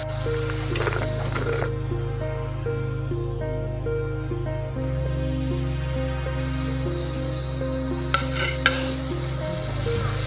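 Soaked chickpeas frying and being stirred in a pan, a steady close sizzle with scraping stir sounds throughout and a few brief clatters near the end.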